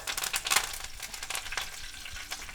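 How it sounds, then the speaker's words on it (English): Curry leaves dropped into hot oil with darkened onions, giving a burst of sharp crackling pops and sizzle near the start, then easing into a steady, lighter spitting fry. "we're going to go ahead with the curry leaves, and they're going to pop"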